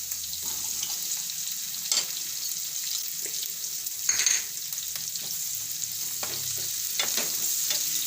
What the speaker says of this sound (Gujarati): હવે આપણે આ ડુંગળી નાખી દઈશું